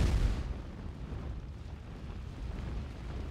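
A deep, rumbling blast from the controlled demolition of a rocket tower at Cape Canaveral opens with a heavy low-end burst, then settles into a sustained, roaring wash of low noise.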